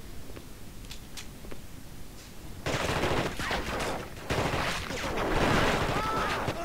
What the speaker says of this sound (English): me use the submachine gun